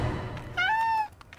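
A single drawn-out cat meow from a TV advert, clear and fairly close, rising then holding, over a low background rumble.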